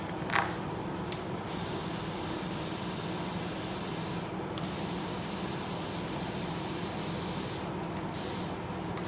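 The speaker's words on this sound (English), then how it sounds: "So now I'm just going to go ahead and inflate it." A pump fills an e-bike tire fitted with a Tannus insert to about 22 psi, a steady loud hissing rush of air that runs nearly unbroken with a few brief pauses.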